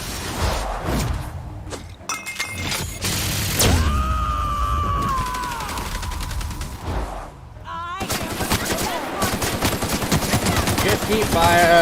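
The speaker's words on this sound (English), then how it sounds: "Keep firing until things are dead." Rapid automatic gunfire and a heavy barrage from The Outer Worlds fill the scene with loud, continuous shots, along with a rising whine and clattering mechanisms.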